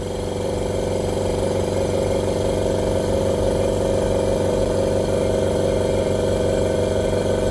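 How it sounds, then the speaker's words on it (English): A silent air compressor runs steadily nearby, producing a loud, continuous motor hum and whir with no breaks or changes throughout. "Compressor has started."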